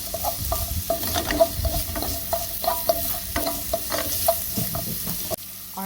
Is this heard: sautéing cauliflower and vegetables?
yes